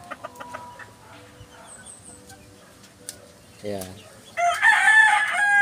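Young roosters (stags) in a yard cluck and call in short bursts, ending in a loud crow near the end, while someone speaks briefly.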